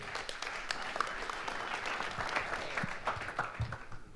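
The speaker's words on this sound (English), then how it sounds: "Please give a round of applause and welcome to Ivy." An audience at a security conference claps steadily to welcome a speaker, a moderately loud, even patter of many hands with a few sharper individual claps.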